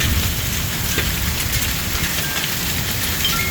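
Heavy rain pours steadily and loudly, a dense continuous hiss of drops hitting surfaces with no pauses, heard close and alone without talk.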